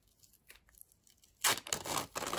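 A sealed swab packet for a COVID-19 lateral flow antigen test is torn open by its little tab, with faint handling rustles followed by a loud, close ripping tear in two or three bursts.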